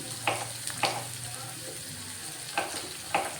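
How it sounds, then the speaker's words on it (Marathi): Cucumber and green chili sautéing in a pan for sabudana khichdi, with a steady sizzle broken by a few sharp scrapes of the spatula as the mix is stirred. "छान हे परतून द्यायचं काय काकडी आणि मिरची"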